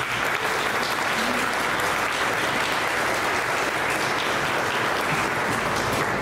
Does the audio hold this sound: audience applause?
yes